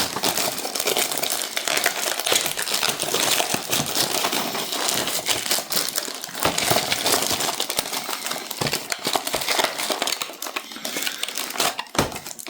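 An AliExpress parcel being unwrapped nearby, with continuous crinkling and crumpling of plastic packaging and scattered sharp tears and crackles.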